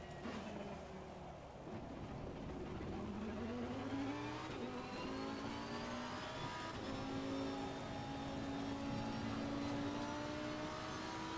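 A race car in a racing video game, set up for rain, accelerates hard through the gears, its engine note climbing and shifting in a loud, continuous drone that fills the whole stretch with no talking.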